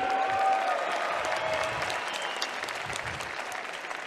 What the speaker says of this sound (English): how about a round of applause for both these young men starting the night?